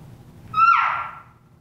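One elk cow call, carried across a basin, sounds as a single descending mew, moderately loud and slightly distant, over a faint low rumble.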